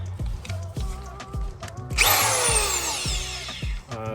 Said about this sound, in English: The drill bit I'm using is 21/64